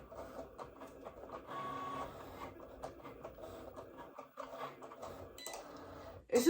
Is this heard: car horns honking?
no